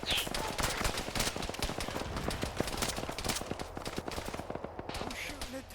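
Rapid, sustained gunfire in a tank-battle video game, dense bursts of shots crackling continuously at moderate level with a faint voice underneath.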